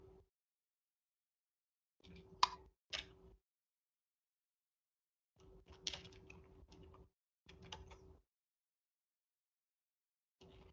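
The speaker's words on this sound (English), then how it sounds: "Can you just type it" Short bursts of typing on a computer keyboard, quiet clicks in four or five brief clusters separated by silence, with no talk.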